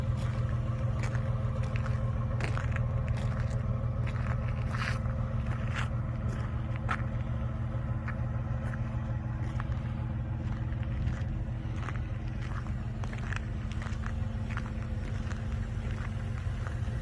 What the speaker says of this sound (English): hopefully you can hear the exhaust.